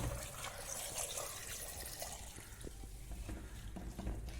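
Coconut milk being poured into a pot of cooking tapioca, a steady liquid splash and trickle running continuously at close range with a few small clinks, no talking.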